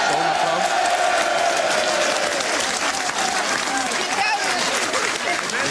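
A crowd at De Beesde in Bunnik applauds to welcome VVD politician Ed Nijpels, with dense, steady clapping that fills the whole stretch without letup.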